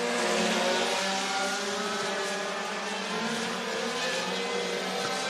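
Race cars circle Clarksville Speedway in Tennessee, a continuous loud engine roar that stays nearly level, with no voices over it.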